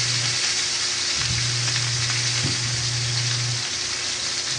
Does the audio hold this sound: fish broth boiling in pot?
yes